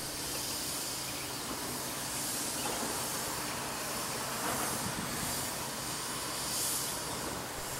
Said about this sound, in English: CSX Q-138-16 proceeds eastbound to Baltimore's Penn Mary Yard